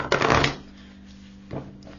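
A tarot card deck being shuffled, a short flurry of riffling card noise, then a quiet pause and a second brief shuffle burst near the end over a faint steady hum.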